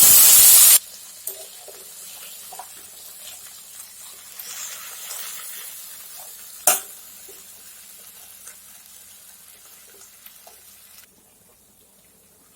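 Taro pieces drop into hot oil in a pan with a loud initial burst of sizzle, then settle into a steady, softer frying hiss, with one sharp clatter partway through.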